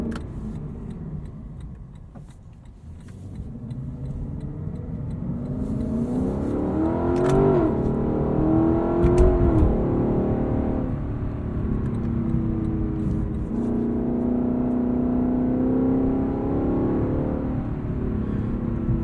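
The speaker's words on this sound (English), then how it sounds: "That blip on the downshift is just, oh, it's intoxicating." A 2018 Lexus LC 500 engine revs hard while driving, with rising and falling pitch sweeps from throttle blips on paddle-shifted downshifts, loud and close throughout with steady road noise underneath.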